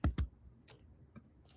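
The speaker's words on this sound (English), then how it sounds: "let's continue as I'm typing" Keys clicked on a computer keyboard, a couple of sharp close taps at the start followed by a few scattered softer clicks, quiet and sparse with no talking.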